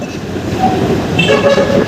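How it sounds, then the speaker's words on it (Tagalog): An LRT-2 light rail train passes along the elevated line beneath a footbridge, a steady broadband rumble of wheels and rail noise holding for about two seconds, with faint higher tones from the train emerging near the end. "may tren"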